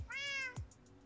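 A cat lets out a single clear meow, close and fairly loud, with a short thud just after it and quiet room noise trailing off, no talking.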